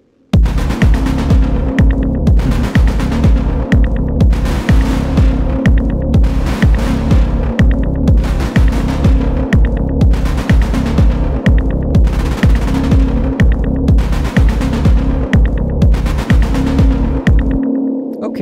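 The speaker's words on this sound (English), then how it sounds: "boosting the resonance of the sound right there before the distortion is making the distortion sound different" A techno synthesizer sound, its resonance boosted before distortion, pulses in a loud, gritty, throbbing loop that repeats steadily for about seventeen seconds before cutting off.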